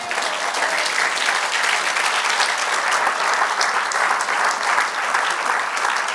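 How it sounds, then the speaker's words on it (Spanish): A church congregation claps together in sustained, dense applause that stays steady and full for the whole stretch, with no voices rising above it. "Denle un aplauso al Señor."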